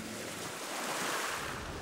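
Ocean waves wash and surf across a broad, steady rush, with wind noise over the microphone and no voices, a continuous moderately loud roar sustained evenly from start to finish.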